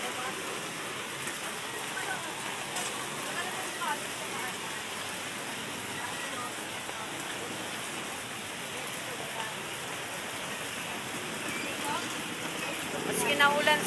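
A steady typhoon downpour drums on surfaces nearby at a market, a thick continuous wash of rain that swells slightly louder near the end.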